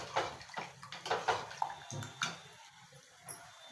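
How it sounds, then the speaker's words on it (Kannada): Water is poured into a cooking pot of leafy-greens curry in uneven splashes and gurgles that come close together, then thin out toward the end. "ಇದಕ್ಕೆ ಸ್ವಲ್ಪ ನೀರು ಹಾಕೋಣ"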